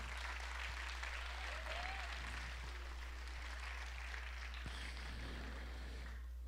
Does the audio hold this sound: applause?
yes